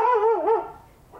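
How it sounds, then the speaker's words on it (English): Dogs in a neighborhood backyard give a single drawn-out, wavering bark or howl, fairly close and clear, with no talking over it. "excuse the background noise. I'm taping in my backyard today, and our neighborhood dogs are out"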